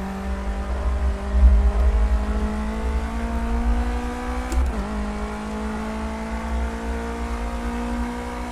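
A video game race car engine revs high and climbs steadily through the gears, with one brief dip at a shift before the whine rises again, loud and close throughout.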